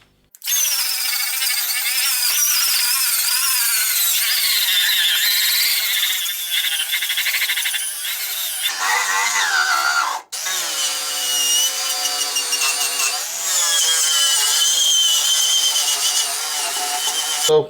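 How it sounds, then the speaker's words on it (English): An angle grinder fitted with a wire wheel scrubs rust from the inner wheel arch of a BMW E30 325i, a loud continuous whining rasp that dips briefly around ten seconds, then resumes at full pitch. "So I've got the old wire wheel and the grinder."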